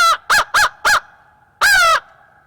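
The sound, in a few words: crow call imitation used for turkey hunting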